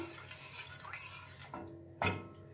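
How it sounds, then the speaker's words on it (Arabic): Soft scraping and light clinks of a spoon stirring milk with semolina in a metal pot, with a sharper knock near the end, close and fairly quiet. "وغادي نحرك مزيان حتى تذوب ليا هاد السنيده"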